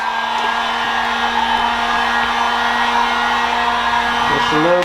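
A heat gun blows a steady, loud hiss with a faint whine while warming vinyl wrap on the center of a Cadillac Escalade; the hum shifts in pitch near the end, and voices speak over it.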